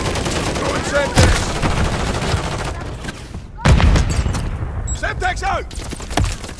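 Heavy video game firefight with continuous volleys of gunshots and booming bursts, two especially loud blasts standing out, while shouted voices call out over the shooting.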